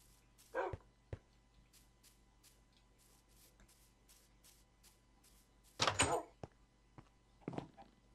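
A dog in the Minecraft video game gives a few short, faint barks spaced apart, alongside light clicks and thumps from gameplay, in a quiet setting.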